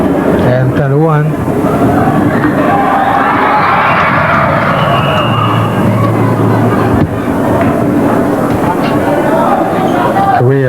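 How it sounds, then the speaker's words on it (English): A large basketball crowd at the University of Guam Fieldhouse cheers and roars steadily through a Philippines versus Korea game, with commentators talking over the constant dense crowd noise. "Big crowd here at the University of Guam Fieldhouse. Both sides have their supporters."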